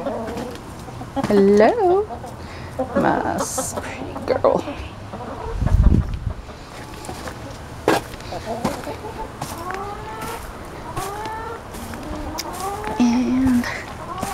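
Backyard chickens cluck and murmur close by at a coop shared with ducks and turkeys, in scattered short calls throughout, while a person speaks warmly to them.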